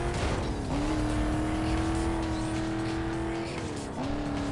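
A Pontiac GTO V8 engine in the video game Need for Speed Most Wanted rumbles steadily, revving up near the start and again near the end, loud and close with a deep throaty tone.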